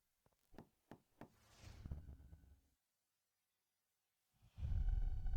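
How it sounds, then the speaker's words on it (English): Three sharp knocks on a door, in a tense police-drama scene before an arrest, evenly spaced near the start, followed by shuffling and a muffled voice, then a pause and louder movement. "I'll knock on the door."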